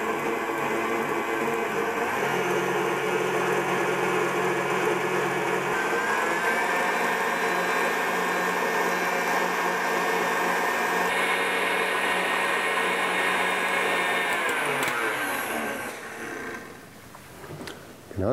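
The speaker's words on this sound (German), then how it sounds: "Und jetzt schlagen wir das weiter, bis die Mascarpone und die Eimischung sich richtig schön verbunden haben zu einer cremigen Masse." An electric mixer whips a mascarpone and egg cream for tiramisu, running as a loud, steady motor whine for a long stretch before slowing and stopping near the end.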